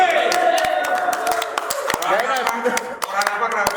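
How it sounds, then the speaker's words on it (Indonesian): Audience claps for guests arriving on a theatre talk show, a scattered run of sharp hand claps under and between speaking voices. "Tepuk tangan."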